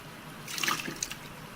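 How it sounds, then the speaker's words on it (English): Water trickling and splashing as a bucket is filled with clean water in Gold Rush The Game, a short, fairly soft pour rising then fading within a second. "So we'll fill it up with cold water, fresh clean water."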